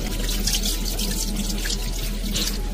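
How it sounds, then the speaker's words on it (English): Tap water runs steadily from a faucet while hands are rinsed after a handwashing routine, a continuous close splashing hiss with no pauses and no voices. "Now rinse it thoroughly with water."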